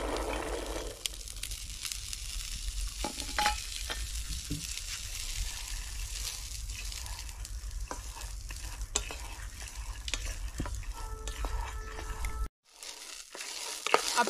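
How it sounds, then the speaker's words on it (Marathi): Pigeon pea (tur) beans roast in a kadhai on a stove over low heat, giving a soft continuous sizzle with scattered stirring clicks and rustles before a brief near-silent pause near the end; no one speaks. "आपलं हे आता तुरीचं दाणं मंद आचेवर चांगलं भाजून घ्यायचं आपल्याला"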